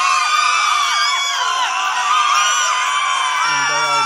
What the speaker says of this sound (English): there are people screaming.